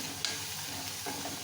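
Chopped onion frying in a pan for bhendi bhaji, with turmeric added, giving a steady soft sizzle with a brief stir clatter near the start; close and fairly quiet, no talk.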